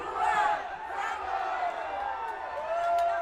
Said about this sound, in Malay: Penonton-penonton mengira masa tamatnya sekarang ini.